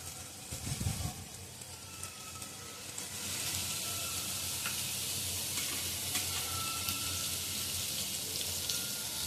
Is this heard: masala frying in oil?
yes